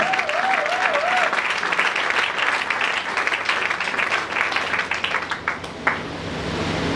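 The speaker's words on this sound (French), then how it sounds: "Acclamons très fort pour le Seigneur" A church congregation claps loudly for the Lord, dense continuous applause filling the room throughout, with a brief warbling tone near the start and faint voices underneath.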